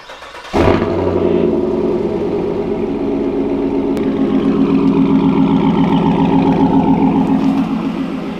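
A truck engine, a Denali, cold-starts with a sudden catch, then settles into a loud, steady idle with a rough, throbbing rumble that continues without pause.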